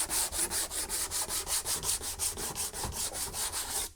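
Rhythmic hand sanding of Bondo body filler on a car's bodywork, quick regular scraping strokes about four per second, close and steady, with no talk.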